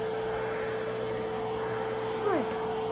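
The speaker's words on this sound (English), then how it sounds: "it's like a vacuum cleaner. So it's sucking up any of the hair that's coming off." The vacuum of a pet grooming kit runs in a steady, fairly quiet hum while it sucks dog hair off during brushing, with a brief rising whine near the end.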